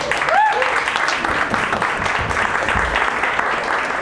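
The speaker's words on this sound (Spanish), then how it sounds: "un fuerte aplauso por favor para el Kakash." Studio audience applause for a comedian at a comedy session, a steady dense clapping wash lasting throughout with some crowd voices mixed in.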